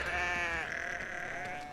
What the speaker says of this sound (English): Mate, sheep here look like they're from the ghetto.